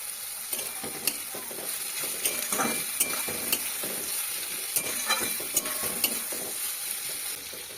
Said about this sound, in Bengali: পেঁয়াজটা দেখুন হালকা লাল লাল করে ভাজা হয়ে গেছে